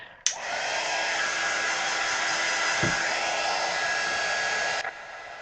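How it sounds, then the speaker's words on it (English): A heat gun blows hot air for drying, switching on abruptly and running as a steady loud whooshing hiss for about four and a half seconds before cutting off; no talking. "Let's dry this. All right, heat gun."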